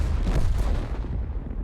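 Tank cannon shot in World of Tanks, a deep booming blast with a rumbling low tail that fades over under two seconds, heard up close and loud.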